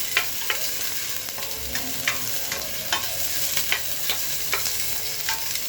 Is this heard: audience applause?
no